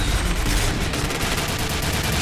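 Rapid, continuous gunfire in the shooter game Point Blank, a dense unbroken stream of shots filling the whole stretch at steady loudness with no talking.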